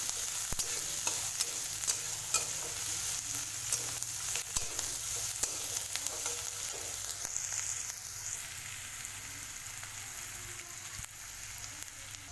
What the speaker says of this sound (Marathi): हिरवी मिरची आणि कांदा हे चांगला परतून घ्यायचा